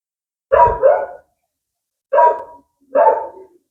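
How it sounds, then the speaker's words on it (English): A dog barks three times, a double bark followed by two single ones after a pause, clear and fairly loud against silence. "Excuse the dog in the background"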